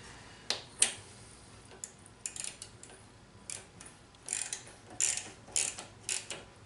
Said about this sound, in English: Take a little socket here. Just snug it up. You don't have to crank down on it. The ratchets go in the right direction.